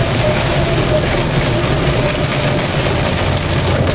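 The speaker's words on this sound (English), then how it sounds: "just got the light rain, the light summer rain" Light summer rain falls steadily in Florida, a dense, even hiss and patter heard up close and loud without a break.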